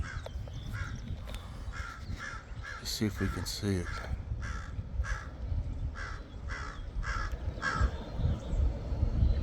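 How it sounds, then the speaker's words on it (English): A crow caws repeatedly from up high in a garden, about a dozen evenly spaced harsh calls spread through the clip, while a person talks nearby under wind and handling noise. "Isn't that crow up there?"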